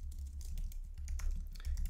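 Quick, close clicking of keys on a computer keyboard as a Docker build command is typed, a steady run of light taps with no voices.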